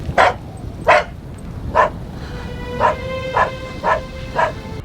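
A dog barks in a TV episode, seven sharp barks spaced about half a second to a second apart, fairly close and clear over a low background hum.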